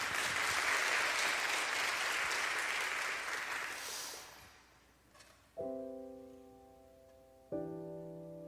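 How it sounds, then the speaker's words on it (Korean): An audience at a worship concert applauds steadily for about four seconds before the clapping fades out. Two sustained keyboard chords then ring out. "박수로 들려드리겠습니다."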